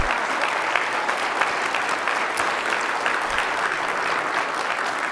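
Audience at a community band Christmas concert applauds the band director, a dense, sustained wash of clapping from a sizable crowd, even in loudness throughout.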